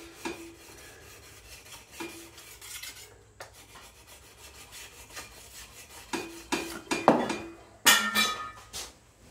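The steel blade of a wooden spokeshave is sharpened to remove the burr, making a series of rasping strokes that come in short bursts separated by pauses, growing louder and quicker toward the end.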